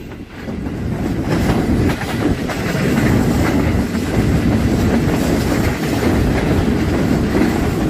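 A Pakistan Railways train running on rails, a loud, steady rumble with continuous rolling clatter from the wheels, close by and uninterrupted.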